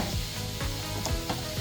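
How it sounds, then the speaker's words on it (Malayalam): Onions sautéing with a sprig of curry leaves for a chicken curry, a steady close sizzle with soft periodic stirring scrapes throughout, no talk. "ഈ സവാള എല്ലാം വാടി ഗോൾഡൻ ബ്രൗൺ കളർ ആവുന്നത് വരെ വഴറ്റാം."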